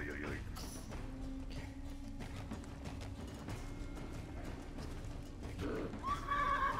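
A pony in the video game Wartales neighs and whinnies while its hooves clip-clop steadily, the whinny rising loudly near the end, with someone speaking French over it.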